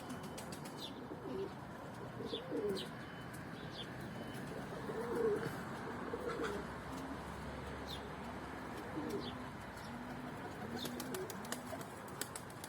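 Tumbler pigeons coo and call outdoors with faint wing flaps as a bird flies and lands, steady soft bird sounds throughout with several brief sharper chirps, no talking.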